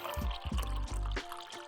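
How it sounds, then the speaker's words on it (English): Milk is poured into a cornflake drink mixture in a few short, close glugging bursts separated by brief pauses. "So all we're gonna do is pour some milk in and that's good to go."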